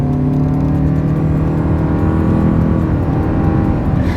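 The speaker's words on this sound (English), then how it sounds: "let's see how quickly we can get our new 2025 RAV4 Hybrid here up to speed" A 2025 Toyota RAV4 Hybrid AWD pulls away hard from a standstill on a straightaway, its engine and electric motors giving a loud, steady, rising drone that holds throughout with no talking.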